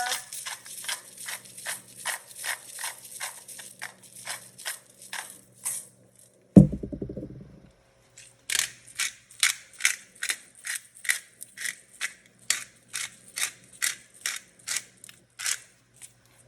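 A hand grinder cracks salt and pepper over pork sausage risotto, a rapid series of crisp, regular ratcheting clicks in two bursts separated by a brief clunk and pause, close and quiet without talk.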